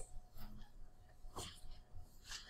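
A single quiet sneeze in a pharmacy lecture setting, a brief sharp burst near the middle, followed by a small sniff, set against a faint hum.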